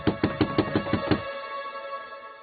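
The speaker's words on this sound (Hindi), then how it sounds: "लियो, दरवाजा खोलो।" A door is knocked on with seven quick, firm raps in a steady rhythm, close and loud, followed by a fading ringing tail.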